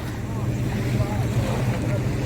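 A boat pulls away from the public boat ramp at Shuwaikh, Kuwait, its motor giving a loud, steady low rumble mixed with wind buffeting the microphone and splashing water, while a voice talks over it.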